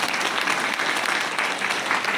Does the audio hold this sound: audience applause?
yes